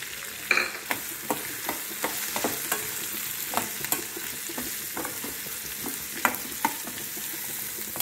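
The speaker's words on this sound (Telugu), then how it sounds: "తొందరగా వేగిపోద్దండి స్టీల్ కళాయిలో, జాగ్రత్తగా చూసుకోవాలన్నమాట, లేకపోతే మాడిపోద్ది." Chopped onion and green chilli frying in a steel kadai, with a steady crackling sizzle punctuated by repeated clinks and scrapes of a stirring spoon against the metal.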